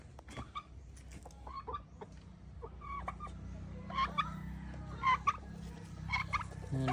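Turkeys on a farm gobble in repeated short rattling bursts at moderate distance, some calls overlapping, over a low steady background hum with faint clucking fowl.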